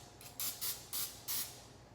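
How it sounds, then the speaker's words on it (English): Four short hissing bursts of extra virgin olive oil cooking spray onto a 7 1/4-inch heart-shaped cake pan, evenly spaced and close by, with no talking. "I'm just going to spray the pan with a little bit of extra virgin olive oil spray"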